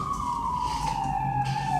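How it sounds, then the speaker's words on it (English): A steady siren alert tone holds a continuous slowly falling pitch, loud and close, with faint background noise underneath for the whole stretch. "when you hear that siren, check and post"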